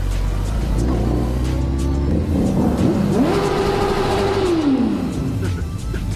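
A motorcycle's exhaust revs inside a tunnel, the loud engine note climbing, holding, then falling away, with a strong echoing reverberation throughout.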